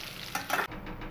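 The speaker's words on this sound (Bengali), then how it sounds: "এবার আলুগুলোকেও আমি খুব ভালো করে একটু ভেজে নেব একবারে লালচে কালার করে" Potato pieces fry in hot oil for a Bengali potato-and-pointed-gourd kasha, giving a steady close sizzle with a couple of louder stirring bursts partway through. No one speaks.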